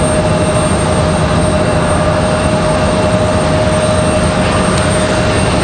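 Breeze Airways jet arriving at Raleigh-Durham International Airport on runway 5 right, a loud, steady engine roar held at full strength throughout with a faint high whine on top.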